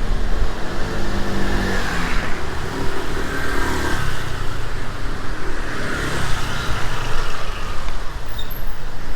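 Busy Bangkok road traffic roaring close by, with passing vehicles swelling and fading in broad waves of engine and tyre noise, loud and continuous with no talking.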